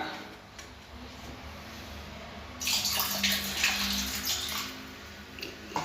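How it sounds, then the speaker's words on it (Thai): Liquid, vinegar, poured into a toilet bowl as a cleaning step before baking soda is added: after a quiet start, a steady splashing pour of water into water runs for about three seconds, close and moderately loud. "เราก็จะเทน้ำส้มสายชูลงไปเลยนะครับ"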